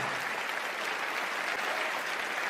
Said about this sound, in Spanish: Ese aplauso tiene que ser para estos campeones